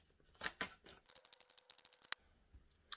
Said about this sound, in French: apparemment je dois te sortir une autre carte